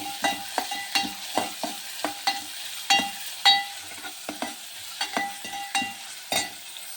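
Onions fry in a pan for an egg sambar, with repeated sharp scraping stirs of a spatula roughly twice a second over a soft, continuous sizzle.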